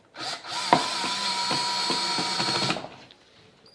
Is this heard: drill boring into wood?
yes